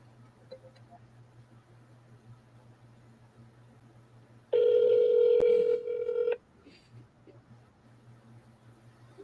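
Short burst of touch-tone telephone dialing, a loud stretch of steady tones lasting about two seconds over a faint background hum, placing a call to a different number.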